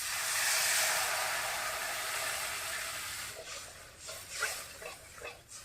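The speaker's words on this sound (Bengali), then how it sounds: "ঝোলটা ফুটে উঠছে" Water added to a spinach and red lentil dal coming up to a boil in a pan, a loud steady steamy hiss fading slightly, followed by a few close clinks and bubbling pops.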